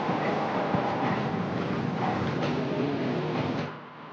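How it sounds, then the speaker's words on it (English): The Cockle Train, a heritage train, rumbles steadily at Goolwa Station on its line along the River Murray, a continuous close mechanical roar that eases slightly near the end. "The Cockle Train commences its run at Goolwa Station along the River Murray"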